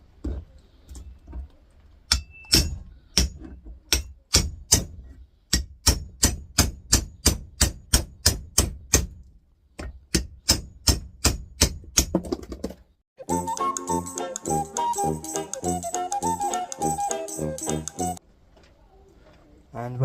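Steady, rhythmic hammer blows strike a small copper AC adapter transformer over and over, followed by a stretch of jangling, clattering metal noise.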